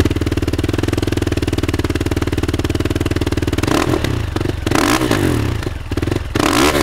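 A Thumpstar TSF450i dirt bike engine thumps in a steady, rhythmic idle at close range, then revs up in several sharp, loud bursts toward the end.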